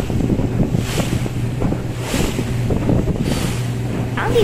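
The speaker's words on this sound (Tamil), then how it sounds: "நீங்கள் இந்த தண்ணியோட சவுண்டு கேளுங்க. போட் அப்படியே ஜம்ப் பண்ணி போயிட்டு இருக்கு." A yellow speed boat water shuttle at Yas Island skims and bounces across the water, with continuous close splashing and hull slaps mixed with steady engine rumble and wind buffeting the microphone.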